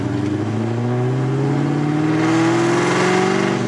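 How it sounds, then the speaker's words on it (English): A 2003 Mustang Cobra with a built, cammed, supercharged engine and Borla Atak exhaust rumbles steadily at idle after retuning, a loud, close, continuous throb whose pitch slowly climbs slightly and stays rough throughout. "the idle doesn't drop when I come to a stop"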